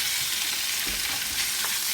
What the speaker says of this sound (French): On va venir mettre le steak qu'on a mis ici. Et on va le faire sauter